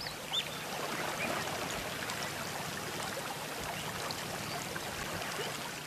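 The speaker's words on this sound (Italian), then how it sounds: "I rumori del fiume coprono i suoni." A savanna river flows with a steady, broad rushing wash that holds at an even level for the whole stretch, with faint trickling detail and no voices.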